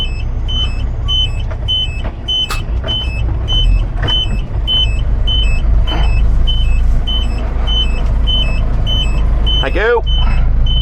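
A lorry reverses and swings into a loading yard, its reversing beeper repeating steadily over a loud, constant engine rumble, with passing traffic and a brief spoken thanks near the end.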